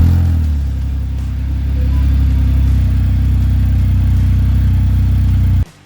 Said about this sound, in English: let's listen to this exhaust